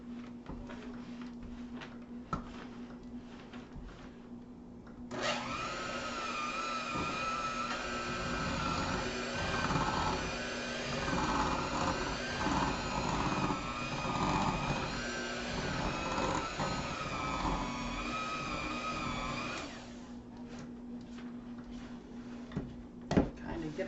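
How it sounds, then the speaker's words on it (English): An electric hand mixer whirs steadily through tomato soup cake batter in a bowl, running for about fifteen seconds in the middle, with a low hum underneath and quieter kitchen handling sounds before and after. "we're just going to mix this up with our mixer"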